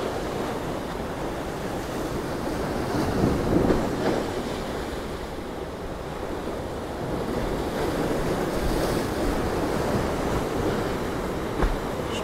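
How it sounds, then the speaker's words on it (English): Rough sea waves break and surge along the shore at Ciudad Jardín in Palma de Mallorca, a continuous roar with swells building and crashing, buffeted by wind on the microphone, with no voices. "And in the distance I can see the bigger waves coming towards us."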